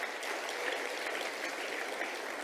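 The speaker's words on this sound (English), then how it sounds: "So I think we need to applaud that" Applause at a Women in Science awards ceremony in South Africa, a soft, distant, steady patter of many hands clapping that continues evenly throughout.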